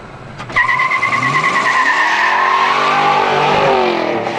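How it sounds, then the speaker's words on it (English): A car given too much gas, its engine revving hard as the tires squeal loudly and continuously from a sudden start, close and sustained throughout. "This is what happens when you give it too much gas."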